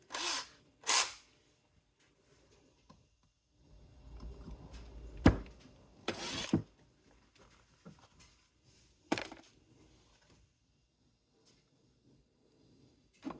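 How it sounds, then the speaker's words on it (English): A power drill bores holes for a roller skate plate mount. There are several short separate bursts of whirring, mixed with clunks and handling knocks, and quiet pauses between them. "I might need to re-drill those"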